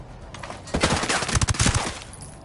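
Automatic gunfire rattles out in quick, loud bursts in the shooter game Ghost Recon Breakpoint, starting after a brief lull and growing denser toward the end of a short stretch.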